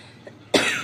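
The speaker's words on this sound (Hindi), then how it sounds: "खांसी बहुत है, सुबह सुबह तो इतना परेशानी बढ़ जाती है" A woman coughs once, abruptly and close, after a moment of quiet room sound, with a harsh burst that trails off, on a morning with a lingering cough.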